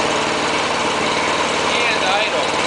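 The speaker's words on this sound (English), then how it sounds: "Now what we're going to do is an OHV cold start." A Briggs OHV small engine starts cold and runs with a steady, dense roar, close and loud throughout, with little change in level over a few seconds.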